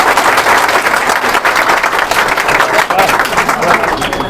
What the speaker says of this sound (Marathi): टाळ्या तरी वाजवणार आहे